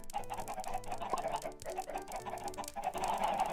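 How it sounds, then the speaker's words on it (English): Chickens cluck continuously on a large farm inside a video game, several birds overlapping in a busy, moderately loud chorus with no talking. "They've already got a massive chicken farm going on."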